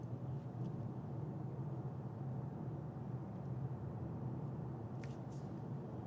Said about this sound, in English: I just want you to hear the traffic noise.